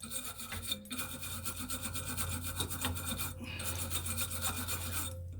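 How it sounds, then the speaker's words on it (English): Deposits scraped off the exhaust spark arrester screen of a Stihl MS180 chainsaw make a steady, close, gritty metal rasp that runs continuously, with a brief pause near the start. "Let's scrape that off."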